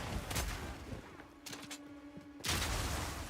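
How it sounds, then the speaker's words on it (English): Bursts of explosions and gunfire from the video game Path of Exile 2 crackle and boom in quick succession, with a brief tonal hum between the blasts. "Explosions."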